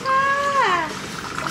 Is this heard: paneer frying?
no